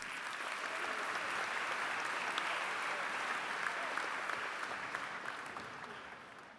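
Sustained applause from a live audience at an Urdu poetry gathering, a steady wash of many hands clapping at even volume throughout, easing slightly toward the end.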